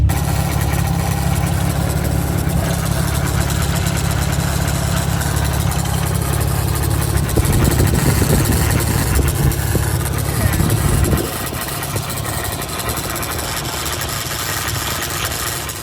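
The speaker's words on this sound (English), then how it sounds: "Sounds like something's rattling or tapping." A Nissan 300ZX engine idles steadily with a low rumbling drone and a faint rattle or tapping, the tone dropping toward the end as the engine settles.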